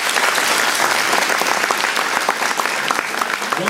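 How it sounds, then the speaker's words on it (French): Audience at the Dijon Saiten 2014 cosplay contest applauding a jury member: dense, loud, sustained clapping from a large crowd, steady for the whole stretch with no break. "Applaudissez tous."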